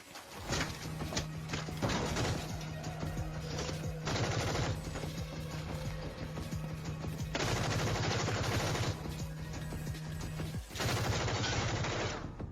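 Gunfire in an action film shootout scene, heard as loud, dense, sustained bursts of rapid shots with brief breaks between volleys.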